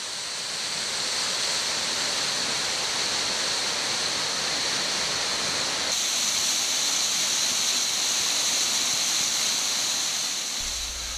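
Several waterfalls along a hiking trail in Clifty Falls State Park make a steady, full rush of falling water that stays loud and unbroken for the whole stretch, with no voices over it.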